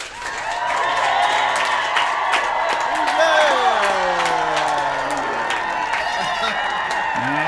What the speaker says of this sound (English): A lot of people clapping for Sebastian Lemon Lamination.